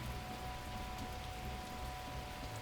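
Steady rain from dynamic weather in the dungeon game Once upon a Dungeon, a continuous dense patter of raindrops on surfaces, even in level and uninterrupted, with no voices.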